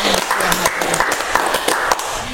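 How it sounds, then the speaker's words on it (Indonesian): Audience applause at a regional government gathering after an official's talk, a dense, steady clatter of many hands clapping at moderate volume with faint voices mixed in. "tepuk tangan untuk pembicaraan Katong"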